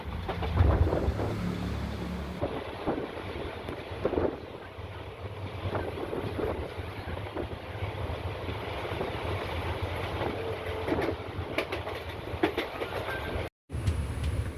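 A passenger train bound for Kanniyakumari, nearing Eraniel station, rumbles along in a steady loud roar of wheels and carriage noise with wind buffeting, broken by a brief dropout near the end.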